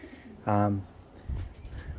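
Young pigeon gives a single short coo, faint against a quiet outdoor background with a soft low rumble afterward.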